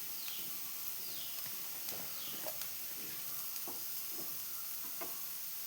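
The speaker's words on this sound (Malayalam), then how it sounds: "അപ്പോൾ ഈ ഉള്ളി വഴറ്റാൻ ഞാൻ കുറച്ച് നെയ്യ് തന്നെയാണ് ഒഴിച്ച് കൊടുക്കുന്നത്" Onions sautéing in ghee in a pan while paneer masala is cooked, with a steady soft sizzle, occasional stirring scrapes and clicks, fairly quiet and close, no talking.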